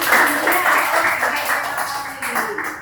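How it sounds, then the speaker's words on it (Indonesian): A classroom of students claps for a classmate, a dense patter of hands at close range that fades slightly toward the end, with a voice speaking over it. "Tepukan untuk Naura"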